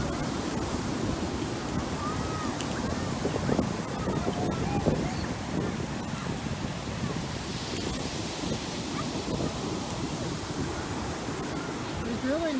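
Ocean waves washing onto a quiet summer beach, a steady, continuous roar of surf mixed with gusty wind buffeting the microphone, with faint voices briefly audible in the background.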